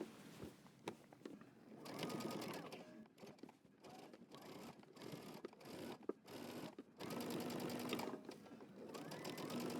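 A sewing machine top stitches a denim jacket in bursts of rapid, even stitching separated by brief pauses, close and clear, with no talk.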